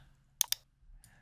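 Two quick, crisp computer keyboard key clicks, a number being typed, followed by a softer keypress for Enter a moment later, close and isolated with no talking.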